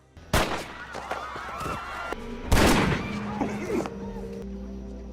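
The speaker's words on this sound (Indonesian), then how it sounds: "Cole melepaskan tembakan ke arah Kai hingga Lucas bangkit kembali menembak Cole hingga tewas." Two loud gunshot blasts ring out a couple of seconds apart, with sharp cracks, echoing tails and scattered clatter between them.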